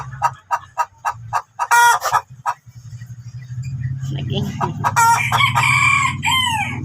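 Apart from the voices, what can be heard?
chickens clucking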